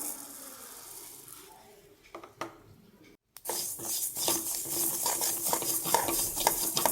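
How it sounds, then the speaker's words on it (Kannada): Cumin and mustard seeds roasting in a pan for gooseberry pickle, stirred with soft scraping and light crackling sizzle, quiet at first, then louder and busier after a brief pause. "ಇದಕ್ಕೆ ಸ್ವಲ್ಪ ಸಾಸಿವೆನ ಹಾಕ್ಕೊಳ್ತಾ ಇದ್ದೀನಿ ನೋಡಿ."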